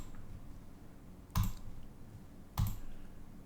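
Two sharp computer mouse clicks, about a second apart and close to the microphone, sound over a quiet room hum while a menu item is deleted on a website builder.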